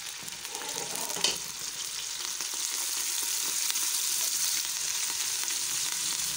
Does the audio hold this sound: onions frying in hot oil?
yes